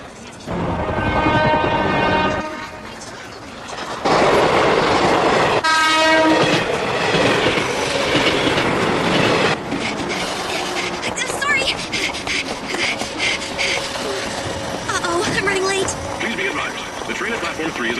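A train pulls in at an express station platform with a horn blast, rumbling wheels and clacking carriages, loud and close, while station announcements play over the noise.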